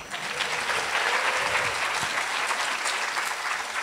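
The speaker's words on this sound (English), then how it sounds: "so let's give her a round of applause." Steady audience applause at a lecture award ceremony, dense clapping sustained and fairly loud throughout, with no voices standing out above it.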